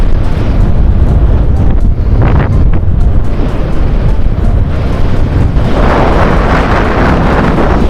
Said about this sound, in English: anything other than the sound of the wind.